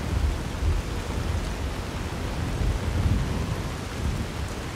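Steady heavy rain hisses with low rumbling thunder in Fallout New Vegas, a continuous loud storm wash without any voices.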